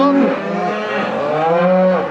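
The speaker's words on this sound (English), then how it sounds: "You can't hear anything because the cows will overshout everyone." Cattle on a farm moo loudly and close by, long overlapping lowing calls filling the whole stretch with no talk.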